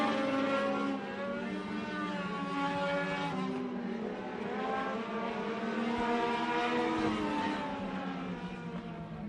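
Legends race cars roar around Benton County Speedway during a heat race, a loud, continuous layered engine drone with pitch rising and falling as the cars pass.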